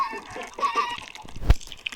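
A Minecraft chicken gives a few short clucks, followed by a single sharp splash-like pop near the end of the two-second stretch.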